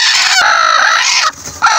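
Backyard chickens of the honey white breed, with a newly hatched chick, give a loud, continuous burst of clucking and crowing-like calls near the nest, with a short dip before the calls resume.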